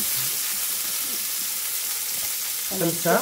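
Smoked pork belly lardons frying in a pan with garlic, a steady loud sizzle throughout, with a brief burst of crackling near the end and a short spoken remark.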